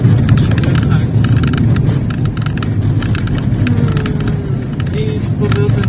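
A car driving along a road, with a continuous low road and engine rumble from inside the cabin and a person talking over it throughout.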